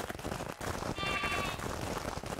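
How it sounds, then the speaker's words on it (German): Sheep bleat in the Craftopia video game, with one clear drawn-out bleat in the middle standing out over a busy, steady game soundscape. "Ich hätte zur Not hier noch ein paar Schafe."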